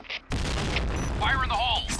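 A grenade blast in the shooter game Point Blank, with a short deep boom followed by a sustained rumble and game sound effects, and a voice calls out over it.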